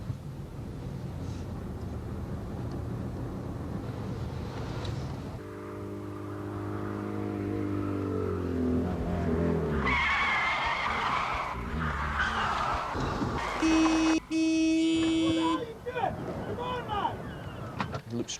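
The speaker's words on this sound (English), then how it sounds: "Slowing down, accelerating." A van slows down and then accelerates, its engine note falling and rising with some tire noise, while voices come in briefly over the vehicle sound.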